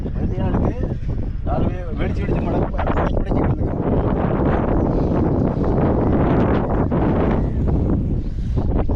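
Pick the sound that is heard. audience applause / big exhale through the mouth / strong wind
strong wind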